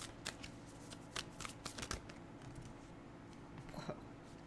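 Tarot cards being shuffled by hand, a run of crisp riffling flutters and soft slaps in quick bursts, close and fairly quiet with no talking.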